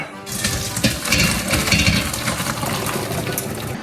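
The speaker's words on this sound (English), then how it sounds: "Then I will drain the water." Orecchiette cooking water pours out of a pot into a drain, a steady close rushing gush with splashing and faint metallic clinks throughout.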